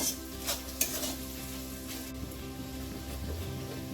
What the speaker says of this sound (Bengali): আলু পেঁয়াজটা ভাজা হতে হতে ওদিকে ডিমের ভুজিয়াটা করে নেব